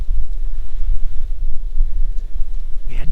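Wind buffets the microphone at a deer stand in Mississippi woods, a loud, low, gusty rumble that swells and fades unevenly for about three seconds.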